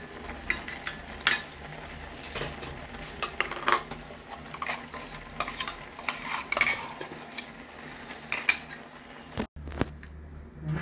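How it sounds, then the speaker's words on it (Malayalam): Coconut milk goes into a simmering Kerala-style curry with chopped green chillies and gets stirred, with scattered clinks and scrapes of a utensil against the pot and soft liquid movement, close by and without talk. "കറി നന്നായി വറ്റി വന്നതിന് നമുക്ക് തേങ്ങ ഒഴിക്കാം"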